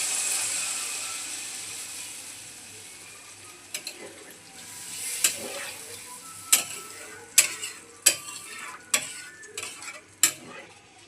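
Water poured into a pan for a rohu fish curry with potatoes and vegetable stems simmers with a steady hiss, broken by repeated sharp utensil clicks and scrapes in the second half.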